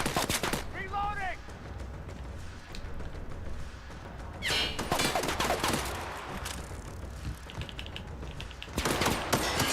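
Gunshots in The Outer Worlds, sharp repeated cracks with mechanical clatter and weapon handling, under a constant game soundscape and a few brief tonal effects.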